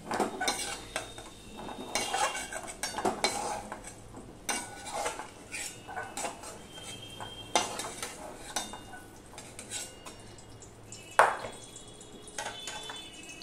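Fried papaya pieces scooped from a pan into a bowl, with repeated metal clinks and scrapes of a utensil against cookware, a few louder knocks and a sharp clink near the end, close and without talk.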